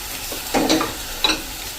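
Chopped cauliflower, capsicum, cabbage, peas, carrot and corn hit a pan on a full gas flame for soup, making two short bursts of sizzling and stirring over a low steady hiss.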